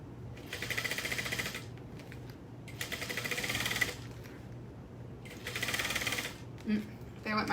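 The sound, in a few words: sewing machine running as the bobbin runs out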